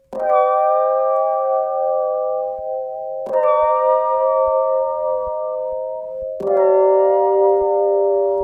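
Three struck Rhodes electric piano chords with a shimmering chorus wobble, chorus turned all the way up, each ringing out for about three seconds before the next, played alone and up close.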